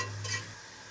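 Onions browning in a pan for biryani give off a soft, steady sizzle with a brief stirring scrape early on, quiet and close, with no talking.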